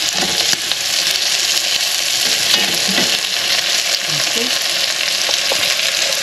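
Chicken and pork adobo fries with soy sauce and vinegar in a pan, making a loud, dense, continuous sizzle with occasional stirring scrapes and pops.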